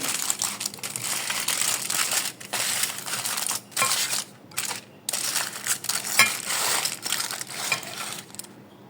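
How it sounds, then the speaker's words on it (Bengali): A chicken shawarma is wrapped in wrapping paper, loud close crinkling and crumpling in repeated bursts separated by brief pauses as the sheet is folded around it. "এই র্যাপিং পেপারে এটাকে দেব দিয়ে সুন্দরভাবে এটাকে"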